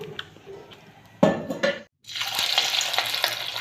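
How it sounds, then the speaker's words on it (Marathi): Hot oil sizzles and crackles loudly in a wok as semolina vadas are dropped in, with a few metal clinks of stirring, then a bright steady frying hiss takes over. "तेल तापल्यानंतर त्यात एक एक टाकून मध्यम आचेवर तळून घ्यायचे"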